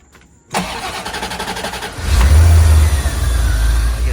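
A C4 Corvette cranks briefly, catches and fires up, then settles into a loud, rumbling idle close by.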